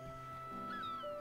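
Cat meowing in the video game Spiritfarer: a single short, faint, drawn-out meow with rising and falling pitch over quiet game background sound.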